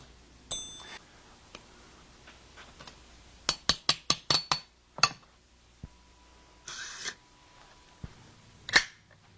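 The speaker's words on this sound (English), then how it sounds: "The bolt closed on the go gauge." Rifle bolt worked and closed on a headspace go gauge, a series of sharp metallic clicks and clacks in quick succession with a few separate snaps, close and crisp in a quiet room without talk.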